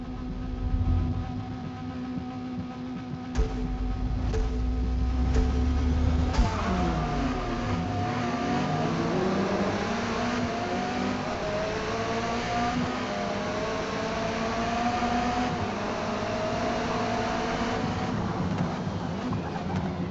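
Race cars at Laguna Seca Raceway in Forza Motorsport roar close by with continuous engine drone, rising and falling revs and gear shifts, accompanied by layered background engine noise.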